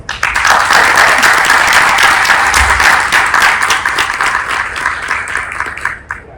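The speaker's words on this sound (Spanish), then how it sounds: "Recibamos a David Centeno con un fuerte aplauso." An audience at a talk on employability skills and the job market breaks into loud, sustained applause to welcome a speaker, a dense wash of clapping that slowly thins and fades near the end.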